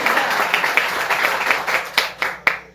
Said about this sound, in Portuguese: Aplaudamos a santa palavra de Deus.